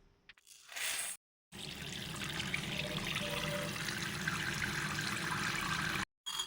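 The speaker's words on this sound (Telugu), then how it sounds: "ముందుగా బాస్మతి రైస్ని తీసుకొని శుభ్రంగా కడిగి నానబెట్టుకోవాలి." Basmati rice is washed in water, heard as a continuous close swishing and trickling of water that runs for several seconds between brief gaps, with no talk.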